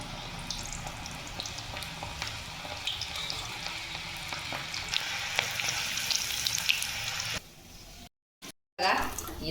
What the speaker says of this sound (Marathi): आता ह्याच्यामध्ये भेंडी सोडून घेतली